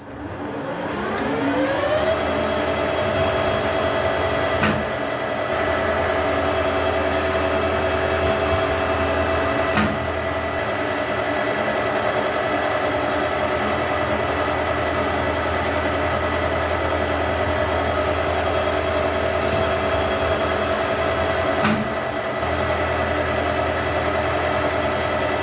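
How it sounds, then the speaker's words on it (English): A lathe fitted with a rapid threading attachment runs steadily at 800 RPM during trial runs, producing a constant mechanical whine and hum with a few sharp clicks at intervals. "Let's wind the speed up to 800 RPM, clean off the tip of the tool, and do a couple of trial runs"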